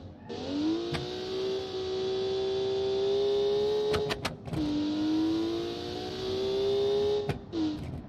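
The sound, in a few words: car engine revving and exhaust backfiring, Automation video game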